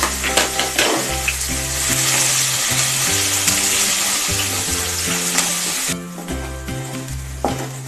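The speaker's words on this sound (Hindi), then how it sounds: "अब इसमें हरी मिर्च, अदरक, लहसुन सबको डाल के थोड़ा भून लेते हैं।" Green chillies, ginger and garlic frying in a wok in a home kitchen, a steady loud sizzle with crackling and spattering throughout, with no speech over it; a strong low drone runs underneath.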